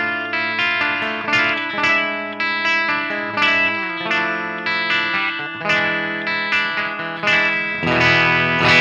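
Epiphone SG electric guitar on a clean channel with the bridge pickup, strummed chords ringing out in a steady rhythm of repeated attacks, bright and close with a touch of effects, no talking.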